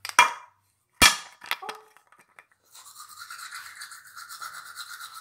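Brushing teeth with a toothbrush loaded with watermelon, cucumber and mint toothpaste on a school morning: a couple of sharp knocks first, then steady close scrubbing strokes that continue alone to the end.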